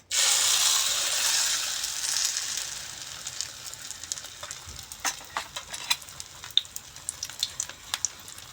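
Oats omelette egg mixture is poured into hot oil in a pan, giving a loud sizzling hiss at first that fades into softer crackling and scattered pops, with no talk.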